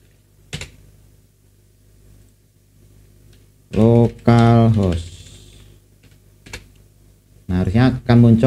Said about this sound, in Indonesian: ketik aja localhost.